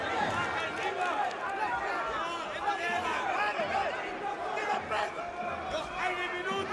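Boxing arena crowd at a Kubrat Pulev vs Hughie Fury fight, a continuous distant murmur of chatter and cheering, with commentators talking over it.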